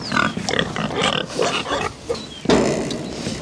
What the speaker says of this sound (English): That big boy right there, he's one of the two biggest pigs